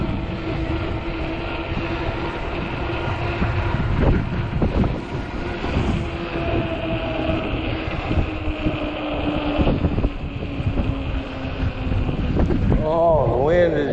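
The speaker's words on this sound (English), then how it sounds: "the wind is just, bucking down here" Steady wind roars and buffets the microphone while someone rides an Ecotric 20-inch 48V fat tire e-bike after a snowstorm. The gusting noise fills the whole stretch, and someone talks over it now and then.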